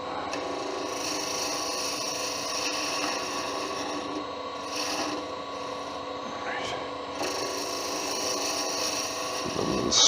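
A wooden Christmas tree being shaped on a lathe gives a steady, close rasping scrape of the tool against the spinning wood that runs the whole time with a constant hum beneath it. Nobody speaks.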